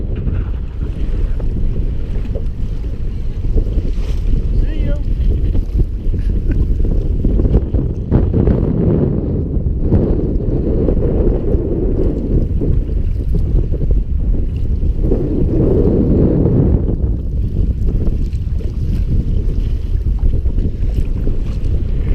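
A canoe glides across Hurdle Lake as steady, loud wind buffets the microphone, with low rumbling gusts and faint water sounds continuing without a break.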